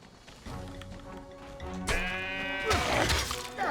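Sheep bleating in the video game Trine 3: The Artifacts of Power, with wavering bleats over a background tone and a brief crash-like burst partway through.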